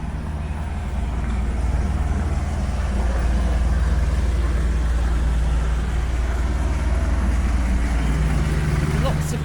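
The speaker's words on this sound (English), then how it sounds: "Lots of delivery lorries." Early-morning London street traffic and delivery lorries near Covent Garden make a steady, loud engine rumble and road roar, dense and continuous, with vehicles idling and passing close by.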